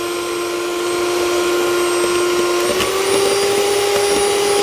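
Electric whisk mixing batter with milk in a home kitchen, a steady loud motor whine with a high buzzing tone, running continuously and alone.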